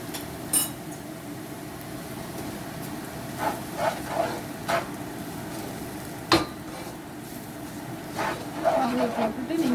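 Semolina (rava) is tipped into a pan and stirred for Tamil upma, giving a soft continuous sizzle and scraping with scattered sharp spoon-on-metal clinks at irregular moments.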